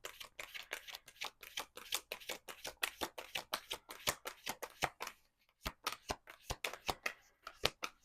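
A deck of tarot cards is shuffled close up, a long run of quick, rhythmic riffling slaps at a steady beat, with a short pause before the shuffling resumes, soft overall and without any talking.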